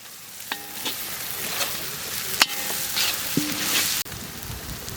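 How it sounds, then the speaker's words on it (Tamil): Onions frying with ginger garlic paste and spices for a goat intestine gravy, a steady close sizzle with scattered sharp clinks and scrapes of a spoon stirring the pan, no talking. "வெங்காயம் நல்லா வதங்கி போச்சு"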